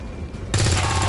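A gunshot goes off in XCOM 2 as a flanking shot, a sudden loud burst that cuts in over quieter game ambience and holds as a dense blast.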